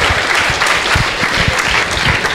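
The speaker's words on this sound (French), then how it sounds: "Attends, applaudissez-le quand même." Audience applauding at a French company presentation event, dense steady clapping from a crowd throughout, loud and close.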